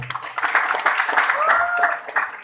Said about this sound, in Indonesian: Boleh kasih tepuk tangan buat para pendiri kita.